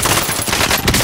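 Rapid automatic gunfire from a Call of Duty video game, dense and continuous bursts filling the whole moment at close, loud level with no pause.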